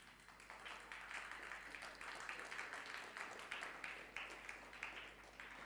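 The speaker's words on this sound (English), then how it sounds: "There is nothing much to clap." Audience applause in a hall during a Nithyananda satsang, a quiet, faint patter of many hands clapping in uneven bursts, distant and low in level.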